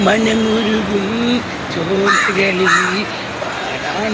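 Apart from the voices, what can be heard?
crow cawing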